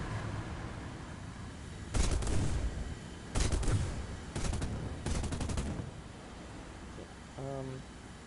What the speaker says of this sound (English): Okay, so this is the 20 mil. Those are the big guns.